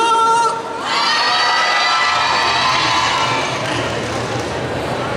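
Crowd at a cosplay contest erupts into loud cheering, whooping and shouting right after a brief lull, sustaining a dense, energetic roar with high-pitched yells throughout.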